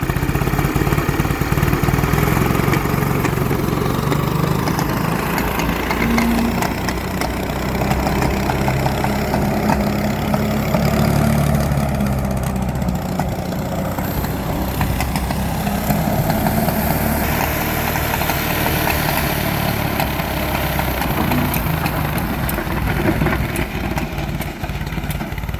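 An old Massey Ferguson TO-30 tractor, abandoned for 30 years, idles steadily and loudly up close, its engine chugging with a rough, continuous running note throughout, without talk.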